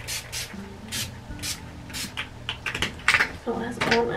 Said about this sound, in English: And then same spray.